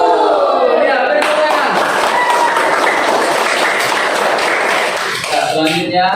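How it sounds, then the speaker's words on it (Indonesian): A classroom group of teachers or students claps a rhythmic counting pattern together, loud and close, the bursts of hand claps in short sets, with a voice leading over the clapping and chatter near the end. "Ayo tepuk 1, tepuk 2, yes, tepuk 3"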